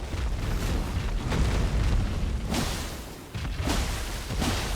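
Fire breath attack in the Elden Ring video game, a loud roaring whoosh of flame with rumbling bursts that surge, briefly dip, then swell again, with no talking.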